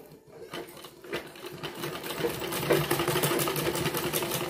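A sewing machine slowly stitching piping onto the neckline of a bra-cut blouse runs with a steady, rapid mechanical chatter close by, gradually growing a little louder.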